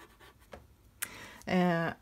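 A few short, dry scratchy strokes of soft pastel on coloring book paper, followed by a brief voiced sound near the end.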